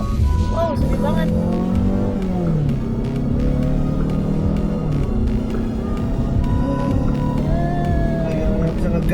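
Mazda 6 Estate wagon accelerating on an open road in Indonesia, heard from inside the cabin as a steady engine drone with rising and falling revs under continuous road and wind noise.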